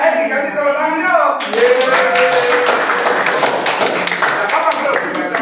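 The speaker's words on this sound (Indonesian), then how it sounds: "Ayo, kan dikasih tepuk tangan yuk." Group clapping breaks out in a room after a call for applause, dense and close, continuing steadily with voices mixed underneath.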